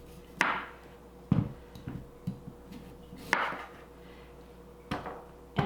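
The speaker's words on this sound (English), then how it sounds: "So we're just going to cut the ends off." A knife cuts the ends off a sweet potato on a cutting board, several sharp chopping knocks spaced a second or so apart, close and clear, with soft handling sounds between them.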